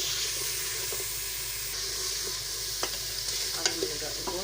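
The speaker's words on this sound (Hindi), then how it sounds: "थोड़ा सा इसको भूनेंगे।" Onion gravy with turmeric and garam masala frying in a pan, a steady broad sizzle with a few sharp clicks of stirring toward the end, close and alone with no voices.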